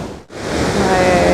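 Water gushing over a weir on the River Tone, a loud, continuous broadband rush close by, briefly dipping before surging back steady.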